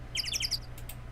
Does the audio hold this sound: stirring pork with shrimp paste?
no